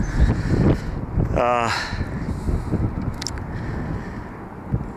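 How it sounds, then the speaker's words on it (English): Steady wind blows across the microphone with low rumbling gusts, while a brief rattling sound and a couple of knocks pass in the foreground. "it is always windy out. It's just, the wind is relentless, never stops."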